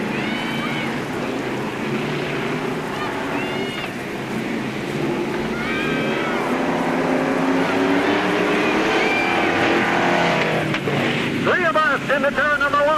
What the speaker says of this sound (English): Five laps to distance, heat race number 3 in our Bomber division.